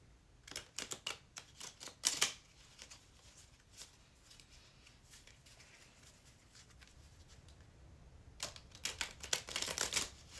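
A deck of cards being shuffled at close range, with bursts of rapid riffling clicks near the start and again toward the end, separated by a quieter stretch of soft handling.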